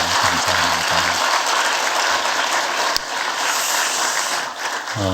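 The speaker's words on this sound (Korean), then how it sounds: "우리 한번 감사의 박수를 한번 하도록 하겠습니다." A church congregation applauds its volunteers in a sustained burst of many hands clapping at once, fairly loud and steady throughout, with a brief voice at the very start and another at the end.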